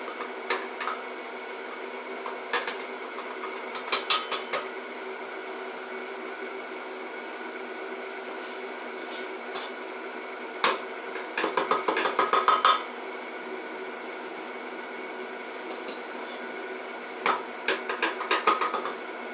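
A kitchen mixer beats four cups of flour at low speed, giving a steady mechanical drone with intermittent rattling clicks and clatter from the bowl, fairly quiet and with no talking.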